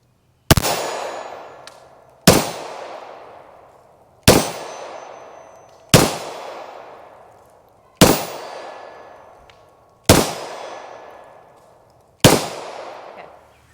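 Seven rifle shots ring out one by one at a steady pace about two seconds apart, each followed by a sharp metallic clang from a steel target and a decaying ring. All are loud and close with no talk.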